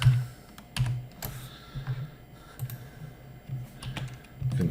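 Rapid, irregular clicking of a computer keyboard as text is typed into Inkscape, with close, crisp keystrokes that come in uneven bursts throughout and no talking.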